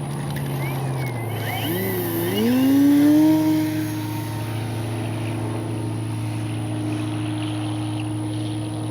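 An Avios Extra NG 300 RC airplane with upgraded landing gear buzzes past, its motor whine rising and bending in pitch as it comes in to land, then settling into a steady tone over a constant background hum.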